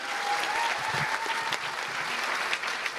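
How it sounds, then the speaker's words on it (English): A church congregation at a dedication and baptism service gives a round of applause, a steady wash of many hands clapping at moderate distance, with a faint voice briefly audible early on. "Give Michael a round of applause"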